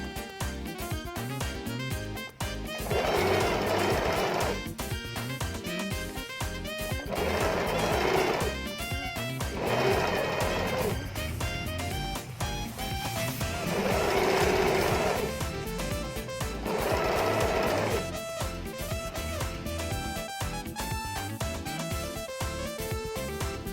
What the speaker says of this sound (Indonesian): Mari kita jahit.